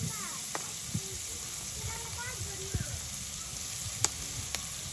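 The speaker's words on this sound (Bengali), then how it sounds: "আলু ভাজার তেলগুলো হয়ে গেছে, এখন হচ্ছে যে আলুগুলো দিয়ে দেওয়া হচ্ছে।" Potatoes frying in hot oil for a village vegetable bhaji, a soft steady sizzle beneath a person speaking, with occasional small pops and clinks.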